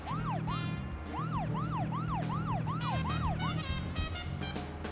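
Police car siren in the video game Deadly Premonition, a loud rising-and-falling wail that repeats in quick sweeps over a low engine hum, close and with no voices.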